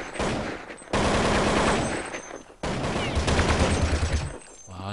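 Video game gunfire in Counter-Strike on the de_inferno map during a tournament match: dense, loud bursts of rapid shots in two long stretches with a short break between, with voices talking underneath.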